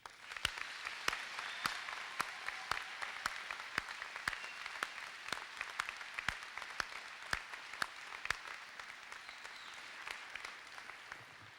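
An audience at a midyear college graduation ceremony applauds a student speaker with cerebral palsy, a steady, fairly distant bed of clapping punctuated by sharp individual claps throughout.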